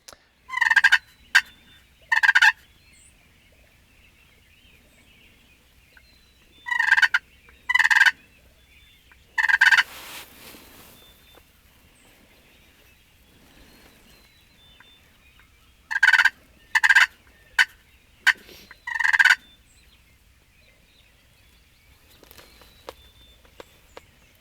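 Wild turkey gobbling in an Ontario hunting setting, several loud rattling gobble bursts in clusters with long quiet gaps, heard alone outdoors.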